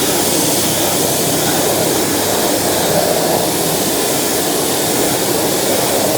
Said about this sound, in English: to just randomly jet wash off the rubbish